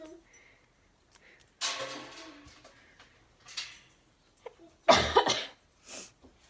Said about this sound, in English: This cough is annoying.